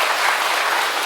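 A church congregation at an evangelism rally claps together, a dense, even burst of applause filling the whole short moment.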